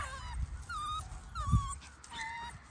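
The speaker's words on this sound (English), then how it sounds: "This is the turquoise puppy right here that's grumbling at me." Schnoodle puppy in a kennel making soft whimpering grumbles and short whiny yips, close by, in a few uneven bursts over low background noise.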